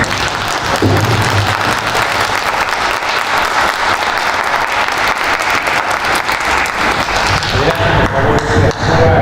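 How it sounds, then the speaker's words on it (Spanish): Loud, sustained applause from a large audience at a public policy forum in Mexico, dense clapping filling the whole stretch before thinning slightly near the end as voices emerge. "demos un aplauso muy fuerte"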